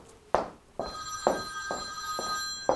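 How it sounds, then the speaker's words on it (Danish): A telephone in a Danish tailor's shop rings with sharp, repeated electronic trills, several quick bursts in a steady rhythm, close and clear with no talking over them. "Du må hellere tage telefonen."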